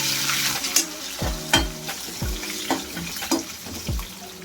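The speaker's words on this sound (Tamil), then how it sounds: "ஒரு கை வெங்காயத்தை போட்டு வதக்கிக்கலாம்" A handful of onions is sautéed in a pan for a mutton head curry. A soft sizzle runs underneath a series of regular spoon knocks and scrapes against the pan, close up with no speech.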